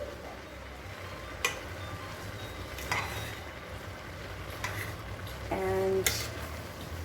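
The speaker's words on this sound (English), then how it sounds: "Give it a bit of a stir." Chicken pie filling with mushrooms stirred in a pan: a steady low sizzle with occasional sharp clinks of a utensil against the pan, close and fairly quiet, without any talking.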